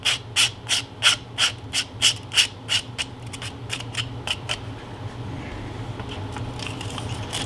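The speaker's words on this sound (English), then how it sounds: "just sand over it" Sandpaper rubbed over heavily textured spots on an HO scale model tire shop building, a close run of about a dozen rhythmic scratchy strokes that fade into quieter, softer rubbing.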